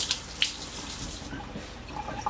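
Water splashes faintly as a finger is dipped and wetted while shaping profiterole choux pastry swans, a couple of small close drips and light trickling over a quiet room.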